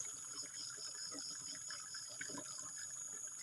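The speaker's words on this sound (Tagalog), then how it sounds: "Medyo mabilis naman yung buhos ng tubig mga idol, kaya medyo hindi tayo matatagalan." Water pouring fast into a container out in a rural field, a continuous splashing gush with a bright steady hiss, fairly faint and even throughout, no talk.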